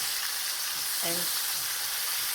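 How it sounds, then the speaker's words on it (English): Tomatoes sizzling as they cook down and release their juice in a pan over a high flame, a steady bright hiss throughout with a brief low voiced sound in the middle. "Look at this, how beautiful the tomatoes are. Cooking down, releasing their juice"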